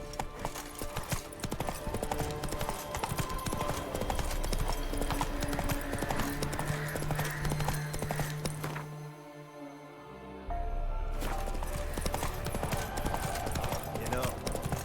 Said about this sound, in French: Au galop, Ablette